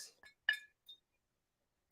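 A glass of water clinks a few times, with short, bright, close taps spaced irregularly in an otherwise quiet room.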